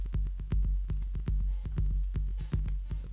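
A simple drum loop from Cubase played straight through a sampler, with punchy kicks and crisp hits repeating in a steady, driving rhythm, loud and alone.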